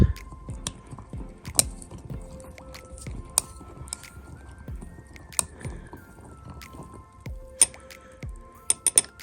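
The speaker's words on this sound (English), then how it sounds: "Just gonna stir that up." Homemade vinegar being stirred in a glass jar, with a close wet swishing and repeated light clinks of the utensil against the glass in an irregular rhythm, with faint drips.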